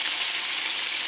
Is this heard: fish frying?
yes